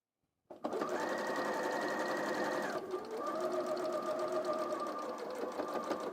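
A sewing machine stitches a quilt block seam with a steady, close whirring hum, briefly dipping in pitch midway before carrying on evenly at speed.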